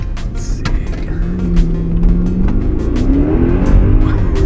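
A Mercedes-Benz R63 AMG minivan's engine accelerates hard, a loud, close, rising roar that climbs steadily in pitch without any talk over it.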